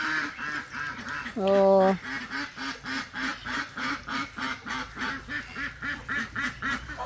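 Domestic ducks kept by a farmer give a rhythmic series of nasal quacks, fairly close and steady, while a person briefly exclaims partway through.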